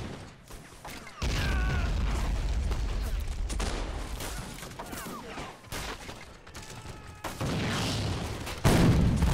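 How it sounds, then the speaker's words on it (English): Cannon fire from the video game Corsairs, Magic Storm mod, booms toward a fort in a 1709 Russian forest outpost battle, with heavy blasts and rumbling mechanisms across the clip, plus a sharp boom near the end. "Oh, shooting right into the fort."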